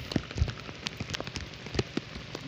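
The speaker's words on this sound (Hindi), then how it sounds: "बारिश आ गई है बहुत तेज" Heavy rain falling close by, a dense, irregular patter of drops striking a hard surface throughout with no voices.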